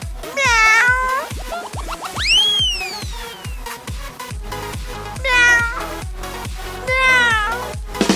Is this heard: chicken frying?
no